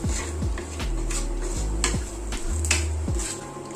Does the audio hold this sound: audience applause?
no